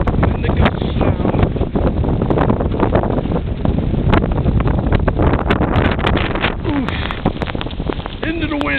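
Strong wind gusts roar across an open Chicago street during a blizzard, among deep snow drifts, a continuous loud buffeting rush that hits the microphone with no letup.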